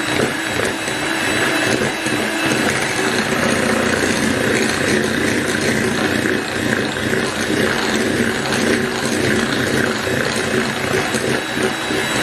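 An electric mixer whirs at top speed through cake batter, a steady, loud, unbroken motor drone that holds without pause from start to finish.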